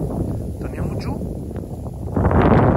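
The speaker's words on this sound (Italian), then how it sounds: "Sta uscendo il sole, ma c'è sempre parecchio vento, guardate qui." Gusty outdoor wind buffets a phone microphone with low rumbling noise, swelling stronger toward the end; no one speaks.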